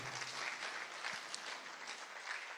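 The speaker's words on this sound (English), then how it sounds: "a big round of applause for Upskill and Unilag" Faint, distant audience applause at an educational summit, a continuous wash of clapping from a large crowd heard softly throughout.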